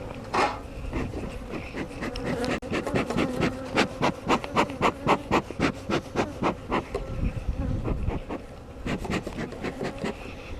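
Honeybees swarm around a beekeeper during a hive inspection, a loud, close buzzing that swells and pulses in rapid rhythmic bursts as they circle near the microphone.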